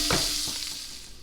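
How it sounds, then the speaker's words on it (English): Onions sauté in a pot after a chuck roast has been seared, a steady close sizzle with a couple of soft stirring scrapes near the start. "We're going to saute these longer until they're golden brown."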